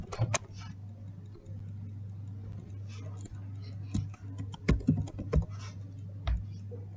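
Keys tapped on a computer keyboard while entering an admin password, scattered quiet clicks over a steady low hum, with a denser burst of louder keystrokes near the end.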